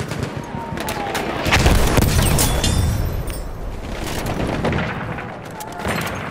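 Battlefield 1 machine gun fire rattles in loud, dense, continuous bursts mixed with booms and other shots across a chaotic battlefield, with brief voices under the din.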